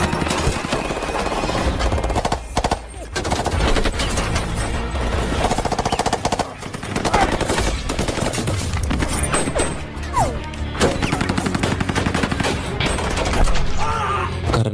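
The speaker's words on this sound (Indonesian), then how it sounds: "Karena Carter dan yang lainnya sibuk baku tembak, Tennis justru memanfaatkan momen tersebut u" Heavy gunfire during a movie firefight, with rapid automatic bursts and crashing impacts packed densely and loudly across the whole stretch, with music and effects layered beneath.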